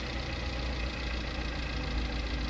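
Suzuki APV engine idling with the AC compressor off, a steady, even mid-low hum close by with no talk; the engine is noted for a rough, coughing running condition.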